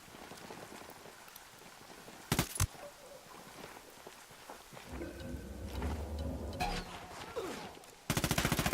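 Automatic gunfire in the tactical shooter game Ghost Recon Wildlands: a short loud burst of shots early on, then a steady hiss-like ambience with rumbling, before a sustained rapid rattle of close fire to the end.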